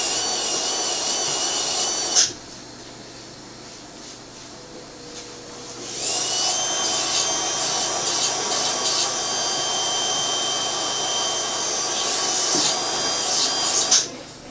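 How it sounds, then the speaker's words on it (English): A sandpaper disc on a dental handpiece trims a temporary dental bridge, giving a high, steady rasping whine in two long passes separated by a quieter pause, close and loud with no speech. "I like the sandpaper disc. It makes a very smooth cut, polishes up very nicely afterwards."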